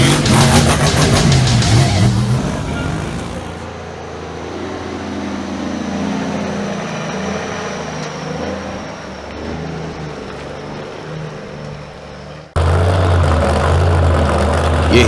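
Monster truck engines idle at the starting line at the Hernando County Fairgrounds during the 2023 Monster Masters Championship, a loud, deep, rumbling drone that holds steady and then surges louder near the end.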